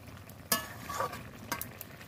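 Ridge gourd and snake gourd pieces in a pan as their released water cooks off, soft sizzling with sharp scraping stirs of a spatula, close and fairly quiet.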